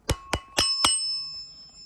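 Four sharp, evenly spaced strikes from a model 2902 9052 fire alarm chime ring out close and loud, each leaving a bright metallic tone that lingers and fades after the last strike.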